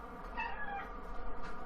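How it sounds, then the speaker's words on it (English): Cat meowing indoors, a few soft, faint mews drawn out over a low steady background hum, with no talking. "I'm being visited by a cat."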